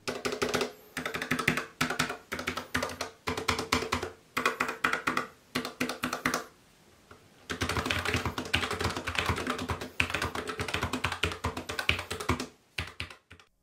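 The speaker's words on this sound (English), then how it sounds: "It feels pleasing to my ears and it's not loud, even when I'm typing really fast" Fast, continuous typing on a Logitech MX Mechanical keyboard with quiet tactile switches, with crisp key clicks in quick bursts and a short pause midway.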